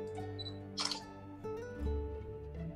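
A DSLR camera shutter fires once at a slow shutter speed, a brief mechanical click-clack heard over a steady background hum of music.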